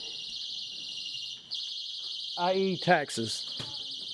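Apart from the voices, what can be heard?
alarm sounding in meeting room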